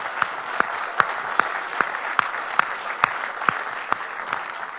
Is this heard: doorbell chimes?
no